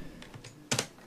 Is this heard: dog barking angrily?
no